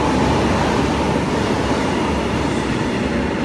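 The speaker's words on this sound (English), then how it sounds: "Heathrow Express class 332 passing through" A Heathrow Express Class 332 train runs through a station at speed, giving a loud, steady roar of rolling wheels and rushing air that fills the whole stretch without a break. No voices can be heard over it.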